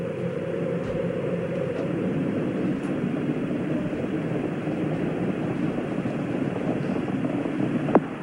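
Space Shuttle Challenger engines roar during launch as a steady, dense rumble that holds at an even loudness throughout, with a faint crackle near the end.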